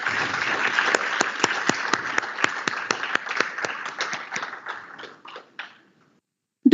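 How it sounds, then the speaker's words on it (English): Round of applause from the audience at a valedictory ceremony for an entrepreneurship summit at IIT Bhubaneswar, dense crowd clapping with sharp individual claps standing out, thinning over the last seconds and then stopping. "let's give a big round of applause to all the participants"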